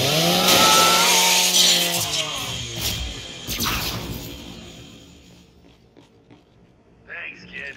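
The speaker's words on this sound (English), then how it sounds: "Just use your Lancer's chainsaw." In the Gears 5 video game, a Lancer rifle's chainsaw bayonet cuts into a custodial robot, a loud buzzing, grinding whine for about two seconds that sputters and fades into scattered mechanical clanks and faint hum.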